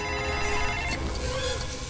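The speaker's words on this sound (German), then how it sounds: "Telefon!" A telephone rings in the LEGO Jurassic World video game, a steady electronic ringing that fills the short moment over dense game sound.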